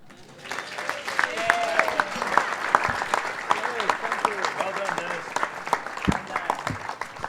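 An audience at an evening Children of Grace event breaks into applause that builds quickly after a quiet start. Dense, steady clapping carries on for about seven seconds, with a few sharper, louder claps standing out and cheers mixed in.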